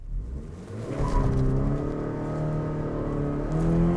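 A 2009 Toyota Tacoma pickup accelerates with its clutch slipping, the engine note droning and climbing steadily from inside the cab, moderately loud with no talking.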